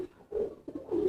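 Pigeons coo in short, soft, throaty bursts, two or three low rolling calls close by at a moderate level, with no voices over them.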